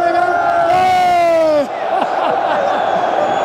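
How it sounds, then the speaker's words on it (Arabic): Algerian football supporters in stadium stands roar in unison, a loud sustained chant with rising, held tones that breaks off into a broad, continuous crowd din with scattered shouts. "اسمع الجمهور في المدرجات"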